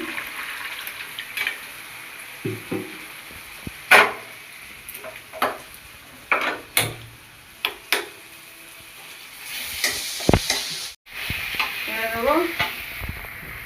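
Spices frying in a pan for mutton curry with chopped tomato: a steady low sizzle broken by sharp spoon-and-pot scrapes and knocks at an uneven pace, with a brief louder burst of frying near the end.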